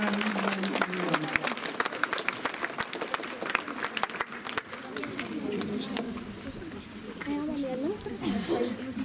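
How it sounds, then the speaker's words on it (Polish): Crowd applause for first-graders at a primary school's school-year opening ceremony, steady clapping with babble over about nine seconds, fading slightly toward the end amid voices. "Brawa dla pierwszaków, bo pierwszy egzamin dla nich."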